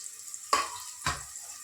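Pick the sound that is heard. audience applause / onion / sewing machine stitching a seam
onion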